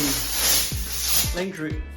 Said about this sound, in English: so we're just going to spray it up